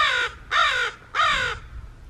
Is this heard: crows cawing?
yes